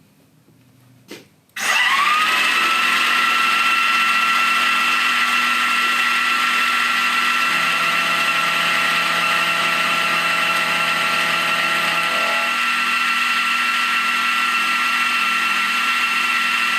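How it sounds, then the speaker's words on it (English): An Optimum BF 30 Vario vertical milling machine cuts the sides of a metal workpiece: after a brief click it starts up into a loud, steady whine and hum that holds to the end, with a lower tone partway through and no voices. "So I'm just trying to machine the sides, and I'm not trying to hit the dimensions of the 23 millimeters yet."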